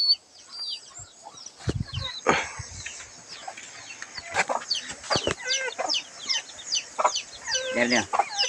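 Chickens and roosters cluck in a farmyard with overlapping calls near and far, brief louder squawks and flaps, and a few bursts of nearby talk in between.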